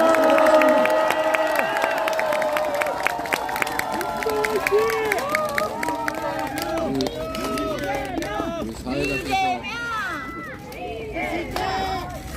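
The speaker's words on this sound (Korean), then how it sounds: "큰 박수로 대표님 모시고" A large crowd at a political rally cheers and shouts loudly throughout, with voices calling out over a dense, continuous roar; clapping is not clearly distinct.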